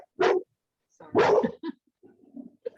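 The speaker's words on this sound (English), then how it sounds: "Sweet dogs. Love dogs." Dogs give a few separate barks close by, short sharp yaps with brief gaps between them and a softer whine-like yip after.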